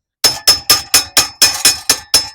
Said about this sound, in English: That just leaves me slight taps with a hammer so I can remove this piece.